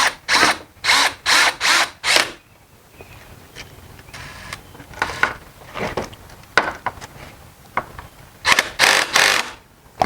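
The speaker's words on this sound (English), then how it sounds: "And now we'll screw it in all the way." Power drill driving a screw into a Costco Adirondack chair during assembly, several short whirring bursts, then quieter ratcheting and handling clatter, and a final pair of bursts near the end.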